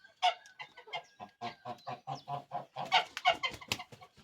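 Chickens cluck in a steady, busy series of short calls close by, with a few louder squawks mixed in and no talking.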